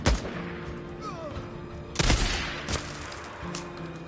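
Sniper rifle shots in Days Gone, two sharp loud cracks about two seconds apart with echoing tails and a softer report after, over quiet background game sound.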